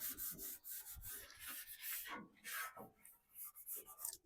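A Blackstone griddle's flat steel cooktop is scrubbed with a scrubber pad, giving soft, close, rhythmic rubbing and scraping strokes at low volume with small pauses, no speech.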